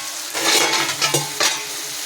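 Snake gourd stirring and sizzling as it fries in oil in a pan, with a steady crackle and a few louder scraping stirs near the mic, no talking.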